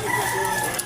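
A rooster crows briefly and close by, a steady, loud call filling the short moment with no talking over it.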